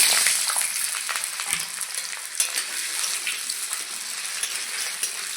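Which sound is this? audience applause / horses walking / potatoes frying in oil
potatoes frying in oil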